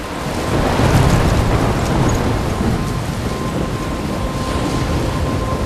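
A stormy scene from the video game Life is Strange: steady, loud wind and rain roar with deep thunder rumbling underneath, continuous throughout with no voices.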